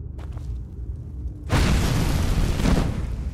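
A dragon shout of fire breath in The Elder Scrolls V: Skyrim erupts as a sudden loud roaring whoosh after a quieter lead-in, then rumbles on for a couple of seconds.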